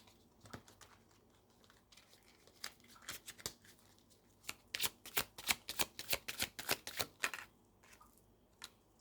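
Tarot cards being shuffled by hand close by, starting with scattered soft riffles and building into a quick run of crisp, rhythmic flicks before easing off.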